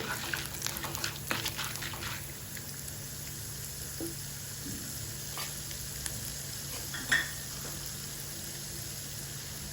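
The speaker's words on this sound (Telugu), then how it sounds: "ఆయిల్ వేడిన తర్వాత జీలకర్ర వేసి, జీలకర్ర వేగుతున్నప్పుడు మినపప్పు, కొద్దిగా శనగపప్పు ఒక్కొక్క స్పూన్ వేయండి" Cumin seeds, urad dal and chana dal fry in hot oil in a kadai with a steady, soft sizzle and crackle, along with occasional spoon scrapes and small pops.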